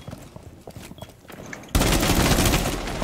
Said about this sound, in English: I'm just shooting at this wall.